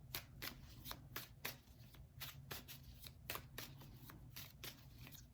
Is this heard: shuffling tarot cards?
yes